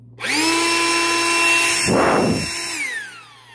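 A P747 portable tire inflator starts up in inflator mode with a loud, steady motor whine that rises quickly, holds with a burst of airy rush midway, then winds down.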